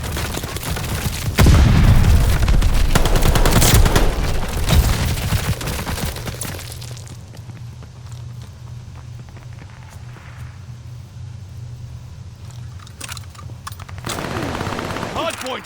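Heavy gunfire erupts at a hard point in Call of Duty Vanguard multiplayer, dense bursts of automatic fire and blasts for several seconds, then quieter scattered shots and game voice callouts behind a low hum.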